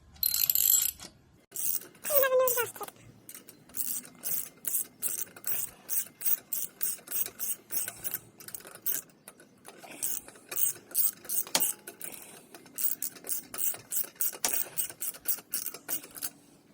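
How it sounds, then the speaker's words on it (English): A hand ratchet clicks in rapid repeated strokes while tightening an exhaust hose clamp on a 2023 Kawasaki Ninja 400 motorcycle, close and crisp, pausing briefly between bursts. "just tighten the hose clamp back up."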